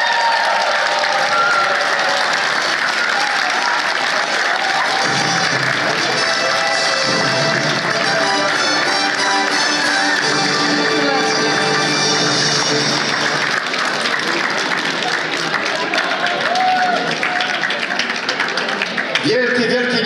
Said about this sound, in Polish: Wielkie, wielkie, niemilknące brawa!